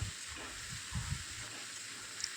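Salted water lily (shapla) frying with onions in a pan, a soft steady sizzle beneath a few low scraping stirs near the start, quiet and close with no talking.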